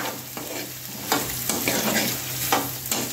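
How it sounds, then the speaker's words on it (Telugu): Onion pieces frying in hot oil in a pan for menthi pulusu, a steady close crackling sizzle with occasional spatula scrapes and taps, no voices. "నూనె కాగిపోయింది కదండి, ఉల్లిపాయ ముక్కలు వేసేస్తున్నానండి"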